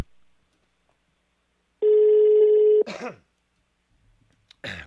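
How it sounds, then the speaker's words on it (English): A long, steady international telephone ringing tone of the kind heard when calling Amsterdam sounds once, loud and clear, followed by a brief rustle and a short burst of noise near the end. "We heard the strange phone ringing."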